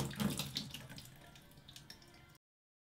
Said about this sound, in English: We gotta turn our water on